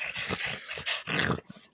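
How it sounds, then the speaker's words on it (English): A dog makes a short run of low growls mixed with whiny yips and whimpers, close by and fairly quiet, in brief irregular bursts. "You gotta quit barking for you wake everybody up."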